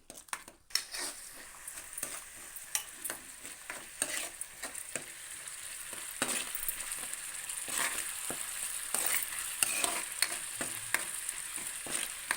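Onions sizzle in hot oil for a fish curry while a metal spoon stirs and scrapes the pan, giving irregular clinks and scrapes over a constant frying hiss, close and moderately loud.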